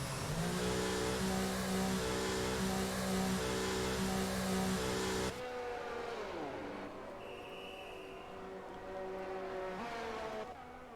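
F1 race car in the F1 22 game during a qualifying lap at Imola: a loud, steady high-pitched engine whine at full throttle, then a drop in pitch and level as the car shifts and brakes before climbing again.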